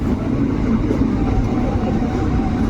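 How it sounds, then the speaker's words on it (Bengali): A passenger train rumbles steadily nearby entering platform six at a station, a continuous low roar of wheels and carriages moving along the track with no voices. "সেই ছ নম্বর প্ল্যাটফর্মে এখন ট্রেন প্রবেশ করছে"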